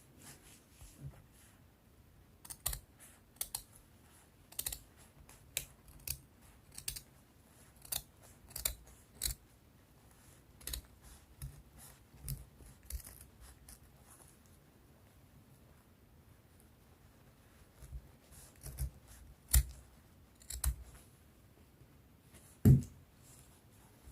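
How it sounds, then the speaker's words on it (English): Scissors snip through blouse fabric in a steady series of sharp, close cuts, pausing in the middle before a few more snips and a louder final cut. "I will now cut this part to this part"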